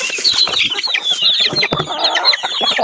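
Chickens cluck steadily on a farm at feeding time, a loud, busy flock with overlapping calls and short squawks close by.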